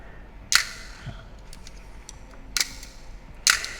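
Three crisp mechanical clicks of a Nikon FM2N film camera's mirror and shutter, opened up for repair, spaced about a second apart, close and sharp in a quiet room.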